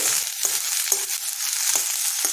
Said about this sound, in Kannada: ಈಗ ಅದಕ್ಕೆ ಈರುಳ್ಳಿ ಮತ್ತು ಹೆಚ್ಚಿರೋ ಗೋರಿಕಾಯಿ ಹಾಕ್ಕೊಳ್ತೀನಿ